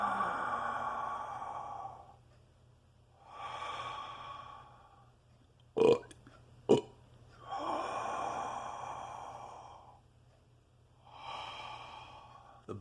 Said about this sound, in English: The belching is just tension coming out.